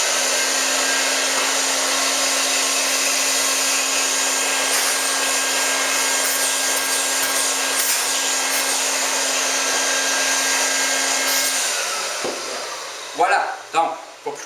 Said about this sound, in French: Je vais simplement aspirer un petit peu du résidu qui est inutile.